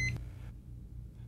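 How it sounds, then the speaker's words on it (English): A single short electronic beep from a ReadyLink 12-lead ECG unit confirming a completed transmission, heard once at the start and followed by a quiet low hum. "You will also hear a single beep tone."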